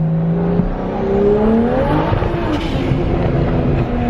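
A single-turbo BMW 335i engine revs on a dyno, its pitch climbing and falling in smooth sweeping pulls with a faint turbo whir, loud and close, with no talking.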